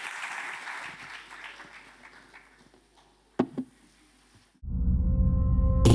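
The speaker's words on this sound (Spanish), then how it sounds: "Un aplauso, por favor, para ellos." An audience at a festival event in a hall applauds a pair of interview guests, loud dense clapping that fades away and gives way to near silence, followed by a sudden low, loud hum.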